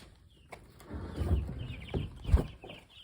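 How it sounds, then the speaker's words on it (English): Week-old meat chicks in a barn give soft, scattered clucks and peeps, several brief calls spread across a quiet background, close but not loud. "We have the baby meat chickens."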